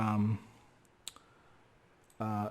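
A computer mouse gives a single sharp click, then a faint second tap, in a quiet gap between stretches of a man's speech during a graphics software tutorial.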